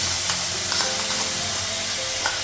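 Potato and onion frying in a pan with ginger-garlic paste, tomato powder, cumin and chili powder, giving a steady close sizzle and hiss throughout, with faint stirring scrapes.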